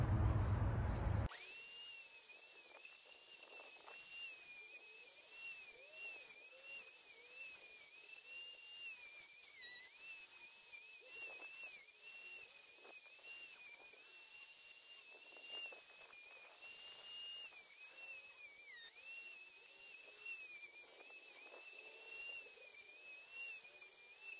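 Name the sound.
Chicago Electric router from Harbor Freight cutting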